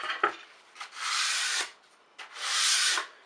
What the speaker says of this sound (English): I use a flat piece of wood and some 320 sandpaper, and I just do some light pressure